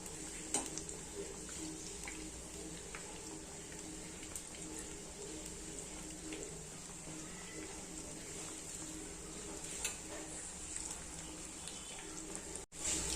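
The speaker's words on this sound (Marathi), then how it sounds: "आता मी मोठा गॅस केलेला आहे आणि मोठ्या गॅसवर तळून घेत आहे" Food frying over a high gas flame for a Marathi home-style dish, a steady dense sizzle that holds evenly throughout with faint stirring and utensil clinks.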